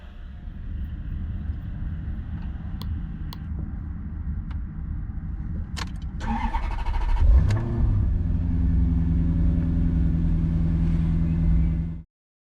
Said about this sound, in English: Traditional metal key into the ignition barrel to start her up.